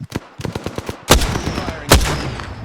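Gunfire in the video game Apex Legends: a quick run of close, sharp automatic shots, then two heavy, booming blasts about a second apart.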